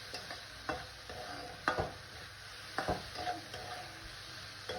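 Boiled moong dal with red chilli powder is stirred in a pan, soft scraping strokes and spoon knocks at irregular intervals over a faint low sizzle.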